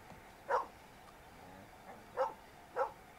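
Three sharp dog barks from a dog in Red Dead Online, spaced irregularly against a quiet background, with no talking.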